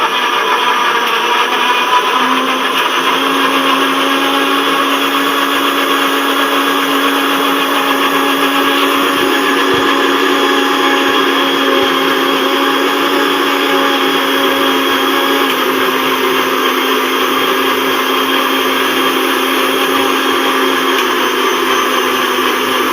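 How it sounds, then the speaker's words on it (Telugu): A mixer grinder blends tomatoes in a home kitchen, its motor whirring at a steady, loud, unbroken pitch throughout, with no talking over it. "ఇప్పుడు ఇవో టమాటాలు మిక్సీ పడుతున్నా."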